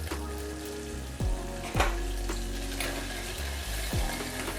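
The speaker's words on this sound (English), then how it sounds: "Once the seeds start to sizzle, let's turn and put in the tomatoes." Spice seeds and turmeric frying in a hot pan for an Indian broccoli and paneer dish, a close steady sizzle with occasional scraping stirs and clinks, with no talk.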